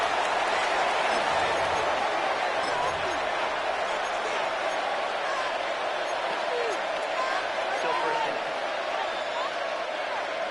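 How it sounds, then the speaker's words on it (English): A Madden NFL 26 football game stadium crowd roars in a continuous, dense wall of noise near the goal line, filling the whole stretch without pause, with commentary voices mixed in. "This crowd is making it tough down deep in the red zone."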